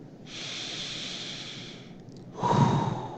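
Two slow, deep breaths: a long airy inhale followed, after a short pause, by a heavier, louder exhale, close and quiet with no talking.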